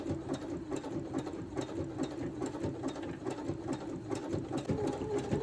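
A home sewing machine runs slowly around a raw edge appliqué piece, a steady, close mechanical whir with rhythmic stitching pulses and no talking.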